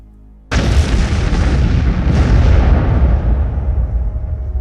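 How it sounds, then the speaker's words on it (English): Bomb explosion sound effect: a sudden loud blast after a brief quiet moment, followed by a long rumbling roar that slowly fades over several seconds. "And then, the bomb goes off."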